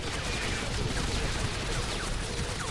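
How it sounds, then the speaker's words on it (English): Heavy artillery barrage in the X-Men Origins: Wolverine video game, a dense, continuous roar of overlapping blasts and gunfire filling the whole stretch, loud and unbroken. "All artillery squads, commence firing!"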